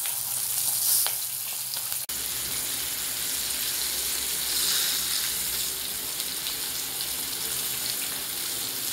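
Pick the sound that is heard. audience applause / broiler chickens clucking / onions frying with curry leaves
onions frying with curry leaves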